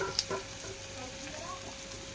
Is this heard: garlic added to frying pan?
yes